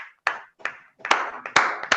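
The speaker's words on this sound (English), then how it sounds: "another round of applause for all the role players, the speakers, and to all the special audience that we have" A few people clap at a Toastmasters meeting, giving sparse, uneven claps in small bursts with short silences between them, close and clear.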